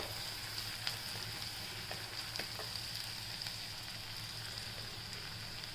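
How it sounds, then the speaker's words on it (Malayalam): Small onions (shallots) sauté in a pan, a faint, continuous sizzle with light crackles and no voices. "ചെറിയ ഉള്ളി ഒന്ന് വാടി കഴിയുമ്പോൾ അതിൻ്റെ പച്ചമണം പോണ വരയ്ക്ക് ഒന്ന് വാട്ടണം"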